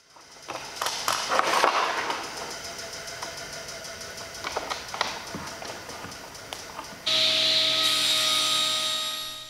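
A table saw with a crosscut sled cuts wooden rails and stiles for glass cabinet doors: close, harsh bursts of broadband cutting noise, then a steady high-pitched blade whine toward the end, with no talking.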